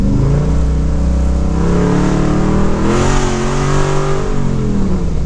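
A third-generation car with an LS engine revs hard on a test drive, its note climbing steadily and loud, easing briefly, then rising again while no gear change comes.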